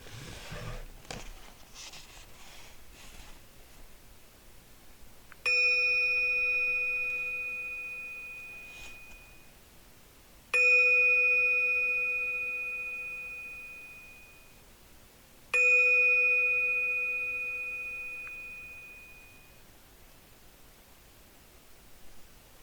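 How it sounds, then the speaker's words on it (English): A Tibetan bell struck three times at even intervals, each clear ringing tone with bright overtones slowly decaying over several seconds in a quiet room, after a little faint rustling at the start. "I'm going to start with just the sound of a Tibetan bell to start us off"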